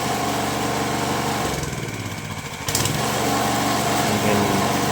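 Honda Beat FI 2022 scooter engine, clogged with mud, running rough: a buzzing, uneven close-up engine note that dips briefly mid-way before picking back up, with no talking.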